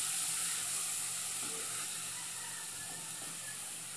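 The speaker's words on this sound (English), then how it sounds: "I'm going to let these saute for a few minutes." Garlic and seasoned peppers sauté in a pan with a steady, soft sizzle and hiss that fades slightly over a few seconds, heard close with no talking.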